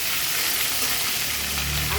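Fish head frying in oil in a pan before dal is added, a loud, continuous dense sizzle with steady crackling throughout and faint stirring underneath.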